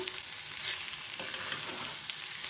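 Rice frying with green masala in a pot, a dense continuous bright sizzle and crackle, close and steady throughout with slight stirring movement.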